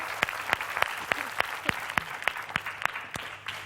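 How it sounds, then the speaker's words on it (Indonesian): Studio audience on an Indonesian television show clapping in unison, a fast, evenly spaced rhythm of sharp claps, about three per second, steady and fairly close. "Coba kita kasih tepuk tangan untuk saudara hari ini."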